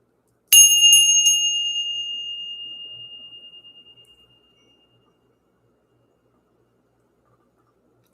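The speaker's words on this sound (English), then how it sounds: "Let's ring this bell." A single struck bell rings out once, bright and loud, its clear ringing tone slowly decaying over about four seconds before falling into silence.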